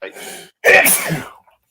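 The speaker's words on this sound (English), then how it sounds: "Was that a real sneeze?" A loud, close sneeze bursts out after a brief breathy intake, followed by a trailing exhale.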